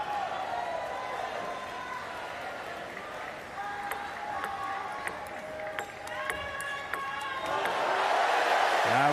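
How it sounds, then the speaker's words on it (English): French spectators at a Paris 2024 para table tennis standing doubles match cheer and applaud loudly, a sustained roar of crowd noise with scattered whoops that swells toward the end. "The crowd has really reacted to that."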